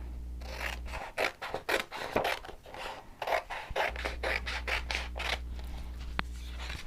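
Scissors cutting a farmhouse sign stencil make a run of close, crisp snips and rasping slices, quiet and steady with short pauses between cuts.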